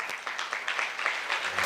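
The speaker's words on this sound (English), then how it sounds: "Let's give another round of applause." Audience applause at an anniversary celebration for a development organization, a dense continuous wash of clapping from a crowd, fairly soft and even, with no voices on top.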